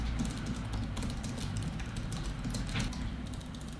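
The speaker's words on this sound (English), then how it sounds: "now the same sentence typed on my old keyboard." Typing on an old iPad keyboard case, a steady patter of soft key clicks running continuously at close range over a low background hum, with no talk.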